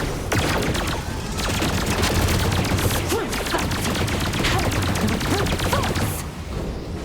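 Bomb charge shots in the Sky Dog 64 flight game rattle out as a dense, unbroken barrage of crackling blasts and rapid fire, loud and continuous for about seven seconds, easing slightly near the end.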